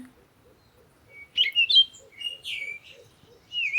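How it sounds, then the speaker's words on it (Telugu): Small birds chirp and tweet in an army forest walking area, with several bright, high calls coming in short bursts over a faint, low background hum. "ఈ ఇక్కడ బర్డ్స్ కూడా ఉంటాయి"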